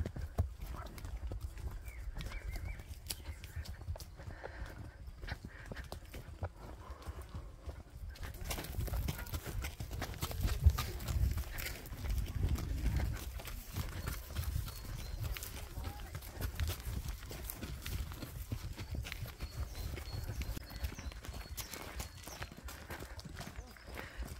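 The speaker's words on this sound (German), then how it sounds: "wir lassen die Pferde nicht rennen, sondern machen ganz gemütlich langsam" A herd of horses walks slowly in a line on the move up to a mountain pasture, with a steady, continuous clip-clop of many hooves close by, under people talking.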